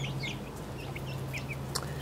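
Buff Orpington chickens give soft, scattered clucks while feeding near peppermint plants, a few brief calls over a low steady hum.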